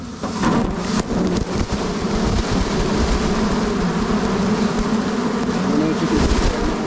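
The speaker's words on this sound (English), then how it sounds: "And I'm going to dump those bees right on you." Dense, steady roar of honeybees pouring from a package into a hive, a loud continuous buzz that holds at full strength for the whole stretch with no talk over it.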